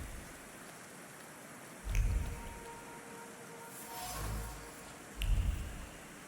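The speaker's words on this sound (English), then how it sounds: "I can't sleep with this downpour." Heavy rain pours down in the video game The Thaumaturge, a constant hiss of downpour broken by a few low rumbling swells and short bursts, with no talking.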